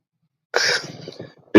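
A single close, abrupt sneeze bursts out after near silence, trailing off into a short breathy rasp before another sharp sound cuts in at the end.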